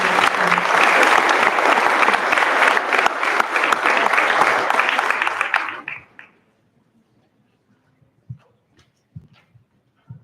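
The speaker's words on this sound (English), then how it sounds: "Let's give Mrs. Flynn another round of applause." Sustained applause from a graduation audience at a high school commencement, a dense steady wash of clapping that cuts off abruptly after about six seconds, leaving near silence with a few faint scattered sounds.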